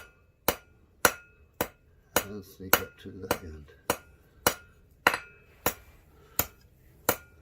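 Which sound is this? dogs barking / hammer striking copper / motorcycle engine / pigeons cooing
hammer striking copper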